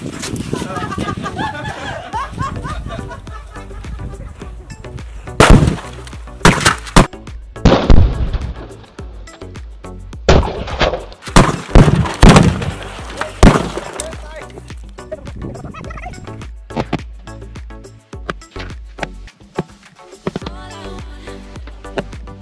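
A rapid series of sharp, loud bangs from ten firecrackers going off inside a closed fridge, muffled and enclosed, with clattering and people's voices and laughter between the blasts.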